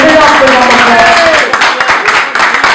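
An audience at a Paris press conference applauds in a loud burst of clapping, with a voice speaking over it from start to finish.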